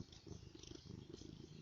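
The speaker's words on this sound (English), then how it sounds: "I can really hear you purr. You want to do that in the microphone?" Cat purring right up against a microphone, a close, steady low rumbling purr with soft rhythmic pulses, continuous and alone.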